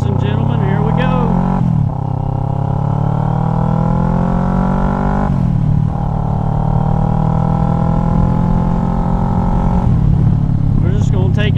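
A Kawasaki Ninja 650 fitted with a Delkevic exhaust rides along the road, its engine droning loud and close, climbing in pitch through gears with brief dips at each shift.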